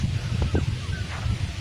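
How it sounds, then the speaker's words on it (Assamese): Chickens clucking and squawking at a chicken farm amid a continuous rushing, noisy background, with a few short fowl calls standing out briefly. "এখন মুৰ্গীৰ ফাৰ্ম"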